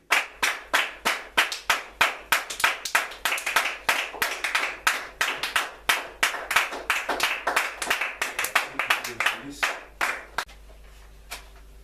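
A church congregation clapping in praise, sharp regular claps in a steady rhythm of roughly two per second, loud and close, running for about ten seconds before stopping abruptly into near silence.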